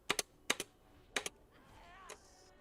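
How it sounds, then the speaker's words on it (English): Quiet typing on a computer keyboard with a thick, hollow-sounding spacebar: a few sharp paired key clacks in an uneven rhythm, heard close up over faint background noise. "this keyboard just has a thick-ass spacebar to it"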